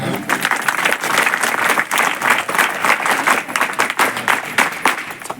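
An audience at a Satara village gathering for the Panchayat Raj campaign breaks into sustained applause, dense clapping filling the whole stretch at steady loudness, with no talk over it.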